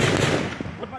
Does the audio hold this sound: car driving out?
no